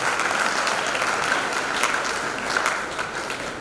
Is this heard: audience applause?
yes